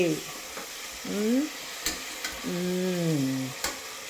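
Spices fry in a pan with soft sizzling and a few sharp clicks of stirring, while voices talk over the cooking.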